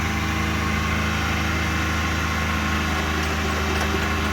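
Kei truck engine running at a high idle with no throttle pedal fitted, a steady unbroken drone with a low hum, close and even throughout, no speech.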